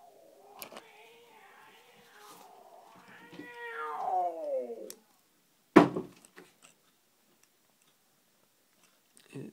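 Cats meow indoors close by, a rising and falling drawn-out yowl with a few short cries, followed by a sudden clatter and a couple of faint knocks in an otherwise quiet room.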